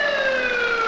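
Video game ambulance siren in Flying Ambulance Rescue, a loud, close electronic tone sliding slowly downward as one continuous wail, heard alone.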